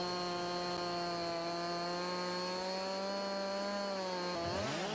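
Chainsaw cutting into a tree in Farming Simulator 22, a steady high engine whine held at full throttle, close and loud, then dropping in pitch near the end as the cut finishes.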